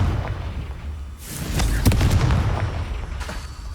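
Confringo blasting spell from Hogwarts Legacy, heard as a deep boom that swells over a constant rumbling bed, with a sharp crack at its peak and a second lighter burst near the end.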